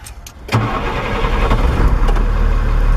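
A truck engine cranks and catches during a safe start in neutral with the brakes set, a short starter burst followed by a loud, steady idle close by, with no voices.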